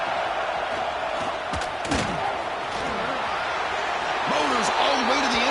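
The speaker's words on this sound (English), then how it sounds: "the crowd coming to life here, trying to help this defense down in the red zone" A large stadium crowd roars at an LSU vs Texas college football game as the defense holds in the red zone. The noise is a dense, sustained roar with scattered thumps, and commentators talk over it.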